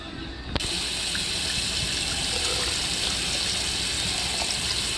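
Hot tap water pours steadily from a kitchen sink faucet into a measuring cup while cooking quesadillas, a continuous close gushing rush that starts abruptly after a brief pause and runs unbroken to the end.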